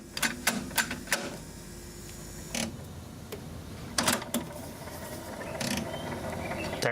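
Vintage Sanyo music center cassette player giving off irregular mechanical clicks and rattles over a constant hiss while a tape plays, the ticks scattered and sharp, close and fairly quiet.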